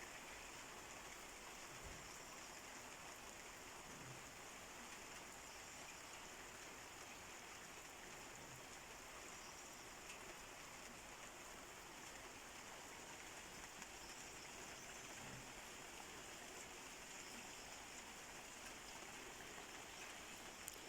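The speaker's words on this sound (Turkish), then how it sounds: "Şöyle yağmurun yağışına bir bakın bacılarım." Steady rain pouring down, a dense continuous patter with occasional louder drops, no voices present.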